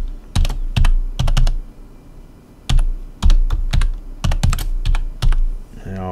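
A password is typed on a computer keyboard in bursts of crisp, close key clicks separated by short pauses, with no talking.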